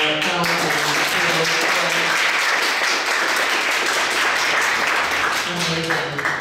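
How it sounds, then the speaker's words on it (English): Audience applause at the close of a participatory officer training session, a broad steady wash of clapping filling the room throughout, with a speaker's voice heard at the start and end over it. "another round of applause"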